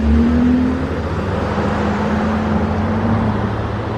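A car drives past on a country road beside a homestead garden, its engine and tire noise loud and close at first, then easing into a steady whir as it moves away.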